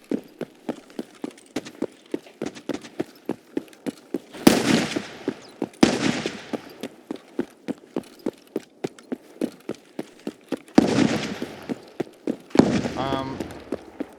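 Gunshots in Escape from Tarkov: a run of sharp cracks repeats steadily, with several louder, heavier blasts standing out, close and loud, with speech now and then over the firing.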